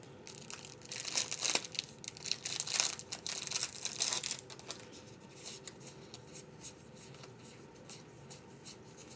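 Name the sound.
handling Anachrony board game appendix cards while unboxing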